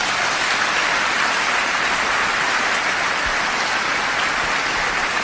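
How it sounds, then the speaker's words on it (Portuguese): A church congregation applauds long-married couples, a dense, even wash of clapping that sounds almost like heavy rain and holds steady for several seconds. "Você dá um aplauso aí para essa turma aí, ó."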